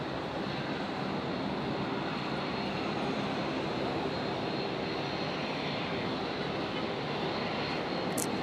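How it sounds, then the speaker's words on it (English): A QantasLink Embraer 190 jet departs from runway 01 right at Brisbane Airport, bound for Canberra, its engines a steady broadband roar that holds loud and constant throughout with no voices. "Qantas Link 1905, Embraer 190,"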